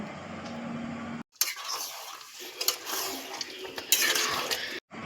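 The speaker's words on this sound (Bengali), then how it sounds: "এবার ঢাকাটা খুলে আমি ভালো করে নাড়িয়ে নেব।" A lid comes off and a spoon scrapes and clatters as jackfruit and shrimp curry is stirred in a wok. The scraping is steady and close, with short pauses at the start and end.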